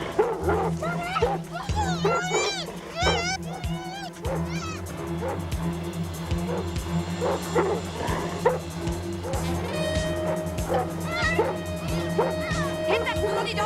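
A dog barks and yips repeatedly in a 1980s British police drama scene, with sharp barks scattered throughout, some whimpering, and an ongoing steady hum and music underneath, moderately close.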